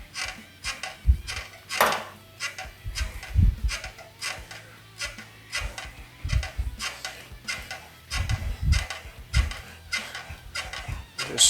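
An English wheel rolling sheet metal for the front fender of a 1940 Ford Coupe-inspired build: rhythmic back-and-forth rolling passes with soft metallic knocks and creaks, close and moderately loud, with no talk.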